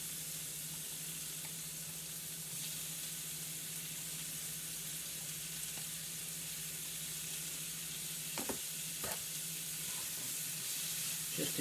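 Paella ingredients sweating gently in a hot pan give a steady, soft sizzle throughout, with a faint hum underneath and a couple of brief clinks near the end.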